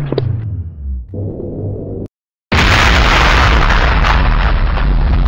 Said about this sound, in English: Time for a big blast.